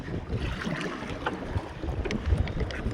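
A small boat moving through water, with steady lapping and splashing over rumbling wind on the microphone, no voices.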